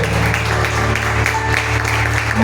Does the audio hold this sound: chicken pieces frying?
no